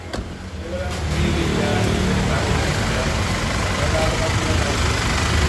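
A Toyota HiAce Grandia van engine runs steadily at close range, a constant mid-pitched drone with a slight rise at the start, voices faintly underneath.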